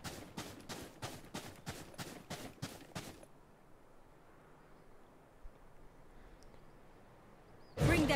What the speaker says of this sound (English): sounds like there's some gunfire up here